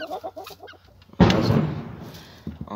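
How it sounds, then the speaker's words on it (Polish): A hen attacks a young rooster: a few quick clucks lead into a sudden loud flurry of squawking and flapping that fades out, with one brief cluck at the close. "O, tutaj kurka atakuje kogutka młodego."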